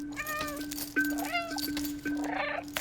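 A cat meows repeatedly in the video game Stray, a series of clear, close mews with short gaps between them over a steady low hum.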